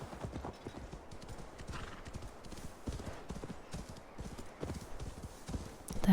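Steady clip-clop of a horse's hooves trotting over ground in the video game Assassin's Creed Valhalla, rhythmic and fairly close, with a brief whinny near the end.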